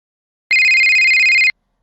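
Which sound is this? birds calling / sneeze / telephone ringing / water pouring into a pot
telephone ringing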